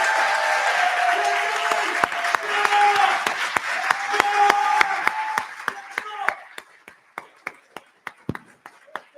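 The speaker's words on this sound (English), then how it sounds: "How about a real big round of applause for Timmy?" Audience applause at a board of education meeting honoring a local hometown hero, a dense sustained clapping crowd that thins after about six seconds into scattered individual claps.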